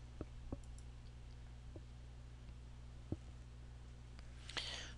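A computer mouse clicks a few times, sparse and soft, sounding like single clicks scattered across a quiet room with a low steady hum beneath.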